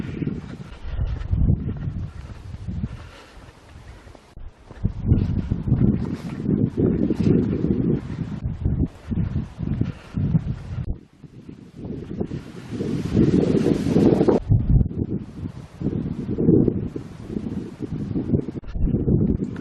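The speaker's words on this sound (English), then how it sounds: "It's a little bit breezy at times, so I hope the commentary is not being drowned out by the wind noise." Gusty wind buffets the microphone on an England coast path between Sea Palling and Happisburgh, loud rumbling bursts that rise and fall for the whole stretch, with a short lull near the middle.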